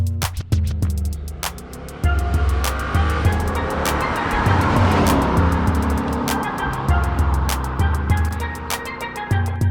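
A car with a manual stick shift drives along, its engine note rising and falling between shifts. Loud, sharp clicks and knocks recur throughout over the steady engine noise.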